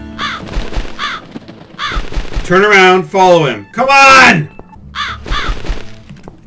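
Crow-like cawing from a bird in the horror game The Cat Lady, several loud harsh calls in the middle of the clip, with someone talking excitedly before and after.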